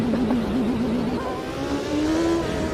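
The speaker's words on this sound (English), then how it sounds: "Oh, that's a violent pit limiter." A race car engine in the Automobilista 2 racing game bounces off its pit lane speed limiter, a harsh, buzzing, rapidly stuttering drone that holds roughly steady and then rises slightly in pitch.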